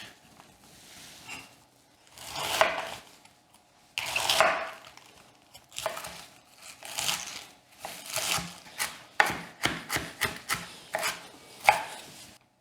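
A knife chops pointed cabbage on a board for a dumpling filling, in quick uneven bursts of crisp thuds. They speed into a rapid, closely spaced run toward the end, with no talking.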